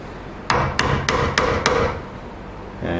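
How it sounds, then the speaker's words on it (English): A chisel is struck five times by a hammer, driving it into wood to cut a shallow mortice for a lockset; the blows are sharp and evenly spaced, close and loud, with no talking. "and we'll chisel it in"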